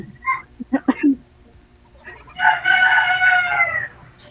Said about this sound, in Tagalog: Madaling araw pala dyan sa inyo kasi may manok. Naririnig ko.